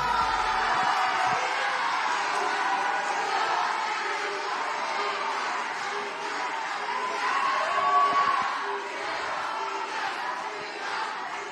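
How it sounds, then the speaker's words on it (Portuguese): The audience at the Miss Universo Brasil 2022 pageant roars and cheers for the top five finalists in a sustained, loud crowd wash with whoops. "Eu quero ouvir a torcida!"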